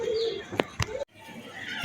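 A male yellow-eyed pigeon gives a soft, low cooing call near the start, followed by a few brief clicks and rustles, with quieter background sound.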